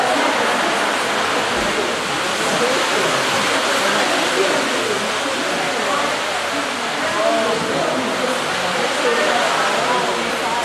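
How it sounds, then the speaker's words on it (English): Steady rain falls in New Zealand near springs, a dense, constant hiss of even loudness with no break throughout. "The sound you hear is rain."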